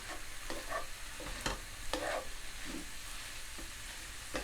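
Minced beef fries quietly in a pan with a soft continuous sizzle, broken by a few spatula stirs and scrapes, fairly faint and without voices.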